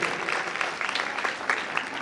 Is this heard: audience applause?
yes